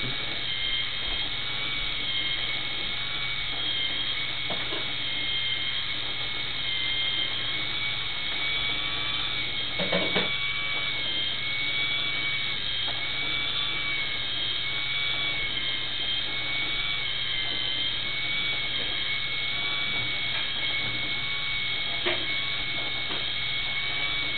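A Simplicity bias tape maker machine runs with a constant, even motor hum and whine, steady and close with no break, with only a few faint clicks.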